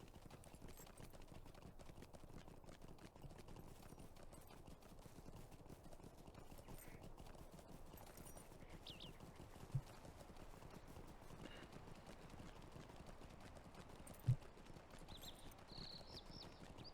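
Horse hooves clip-clopping in a steady, even rhythm while riding in the online game Lord of the Rings Online, faint and continuous across a soft ambient bed, with two sharp isolated knocks standing out.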